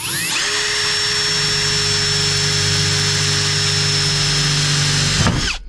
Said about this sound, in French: là on prépare, on fait un premier pré-trou